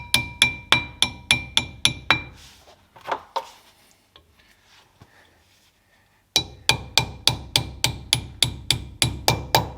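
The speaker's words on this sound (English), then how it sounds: "Then all you need to do is hammer this one back in a little bit." Sharp hammer blows drive a brake part back into a Lotus Elise: a quick run of about seven evenly spaced strikes, a pause filled with faint handling noises, then about ten more strikes in the same steady rhythm.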